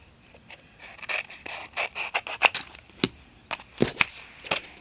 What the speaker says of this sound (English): I'm going to cut the excess off right here.